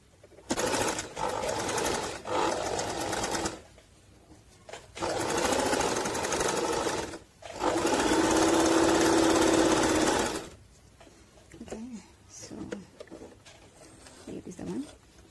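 A Singer Talent 3321 sewing machine runs loud and close in three steady bursts of decorative stitching, separated by short pauses, and a voice talks briefly once the stitching stops.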